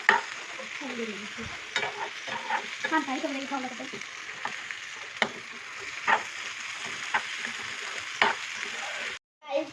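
Prawns frying for chemeen fry in a hot pan, a soft continuous sizzle broken by repeated spoon scrapes and taps as they are stirred, close by, with no speech.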